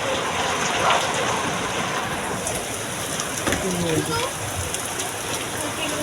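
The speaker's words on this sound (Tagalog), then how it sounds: "Ang lakas ng ulan, guys." Heavy rain pours down in a steady, dense hiss, with a voice briefly audible beneath the downpour.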